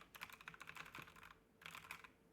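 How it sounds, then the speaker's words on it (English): Faint computer keyboard typing comes in two quick bursts of rapid, clicky keystrokes, separated by a short pause, picked up softly by a nearby microphone. "But the keyboard sounds nice."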